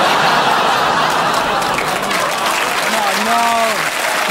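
Studio audience on a comedy panel show applauding steadily, a dense, loud wash of clapping that holds throughout, with a voice speaking over it near the end.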